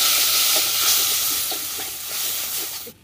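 Shrimp and ground shrimp paste sizzle and hiss steadily in a pan on a stove as a splash of water hits the hot oil, a close, continuous frying crackle that cuts off abruptly at the end.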